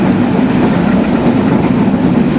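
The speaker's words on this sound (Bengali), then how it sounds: "এক্সপ্রেস স্মুথলি 95 কিলোমিটার বেগে ছুটে চলছে।" Banalata Express train running at about 95 km/h between Dhaka and Rajshahi, a steady loud rumble with rhythmic clickety-clack of wheels on rail joints, heard continuously from on board with no talk.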